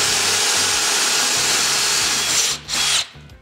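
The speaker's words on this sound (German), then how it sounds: "Und jetzt kann ich ganz einfach mein Loch bohren." A power drill with a Forstner-style bit bores a hole into wood, a loud, steady whirring grind close to the microphone that briefly dips and resumes before trailing off at the end.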